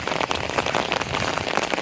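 Heavy rain falling across a village, a dense, loud, continuous hiss of drops striking surfaces all around, with no speech.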